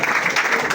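A church congregation at a worship service cheers and applauds, dense continuous clapping and voices filling the room at full volume for a brief moment.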